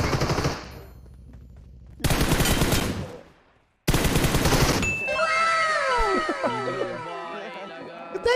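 Bursts of rapid automatic gunfire in a video game, several loud dense volleys separated by short gaps, followed by sweeping electronic game sounds, with a player's voice talking over them.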